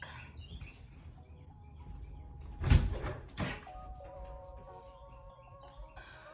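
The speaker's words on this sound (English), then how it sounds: "I closed the door because there is a bird" An indoor door is shut with a single moderate thud, followed by a softer knock, while faint bird chirps continue in the background.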